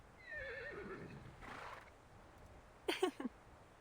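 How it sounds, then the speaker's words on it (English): A horse whinnies in the fantasy game Reverse 1999, a long descending neigh early on, then a few short snorting bursts near the end over quiet background ambience. "The horse seems to naturally gravitate to the knight"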